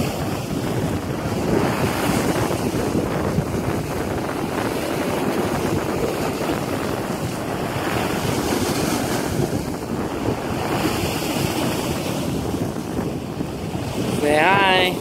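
Choppy lakefront water lapping in strong wind, with the wind buffeting the microphone; a continuous rushing, splashing wash that stays loud throughout.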